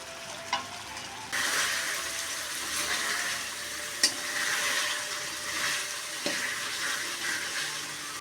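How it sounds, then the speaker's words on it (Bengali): Water is poured into a pan of cooked-down fish curry base, setting off a sudden steady hiss and sizzle that continues at an even level, with a few sharp clinks of utensils on the pan. "কষানোর পর জল ঢেলে দিলাম একবারে ঝোলের জন্য।"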